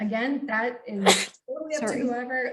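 A single sharp sneeze bursts out in a room, close and loud, briefly interrupting a person who is talking.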